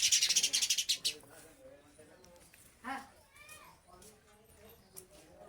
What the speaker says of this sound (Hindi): देखो हमारे छप्पर में ना चिड़ियों ने घोंसला रख रखा है।